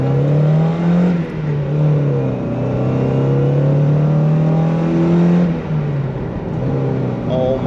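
A Mazda Miata with a G Racing short throw shifter pulls hard, its engine note climbing loudly and steadily, dipping briefly at two gear changes before rising again, close and continuous.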